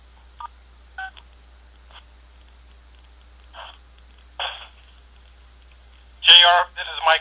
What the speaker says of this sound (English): Go ahead and Star 6 your phone.